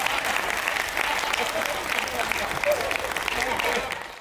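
A comedy show audience applauds steadily, a dense wash of many hands clapping at an even level for several seconds before tapering slightly at the end.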